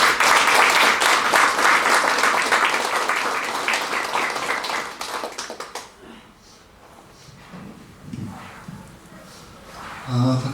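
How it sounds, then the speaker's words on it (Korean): An audience at a peace and unification forum gives a loud, sustained round of applause welcoming a speaker, fading out after about six seconds into quiet room noise with brief sounds. "모실 때 뜨거운 박수 부탁드리겠습니다"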